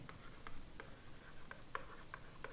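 A marker or chalk writes on a classroom board in quick, light taps and short strokes, faint and close, with no talking.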